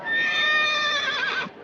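A horse lets out a single long, loud neigh that wavers in pitch and lasts over a second before breaking off abruptly.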